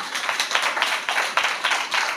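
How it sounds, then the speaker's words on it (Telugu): A church congregation clapping loudly together during a Telugu sermon, several bursts of sharp handclaps in a steady rhythm, close and full, with no talk over them. "ఒకటి గట్టిగా చప్పట్లు కొట్టండి."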